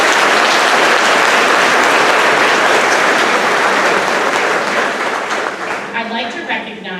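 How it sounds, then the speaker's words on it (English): Loud, dense applause from a large audience at an 8th grade graduation ceremony fills the room for several seconds, with crowd voices mixed in, then thins out and fades. "Let's give all of our parents and family members a big round of applause."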